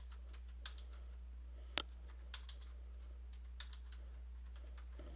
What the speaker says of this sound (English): And then I could type in the numbers.